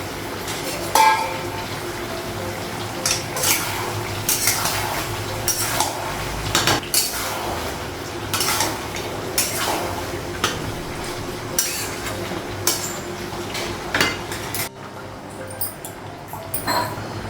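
A lid is set onto a cooking pot in a home kitchen, with repeated close metallic clinks and clatters of utensils against the pot over a low background hum.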